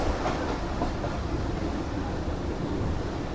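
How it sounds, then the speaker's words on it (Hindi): Jaffer Express train rolling toward Kharian Cantt railway station, a steady broadband rumble of wheels and carriages heard from aboard, continuous and fairly loud with no distinct clacks standing out. "ट्रेन जो है इस वक्त खारियाँ कैंट रेलवे स्टेशन पर अप्रोच बना रही है"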